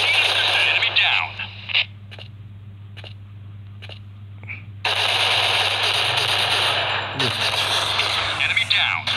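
Gunfire in the mobile shooter Point Blank Strike comes in loud, dense bursts with a quieter gap between them, mixed with game voice callouts over a constant low hum.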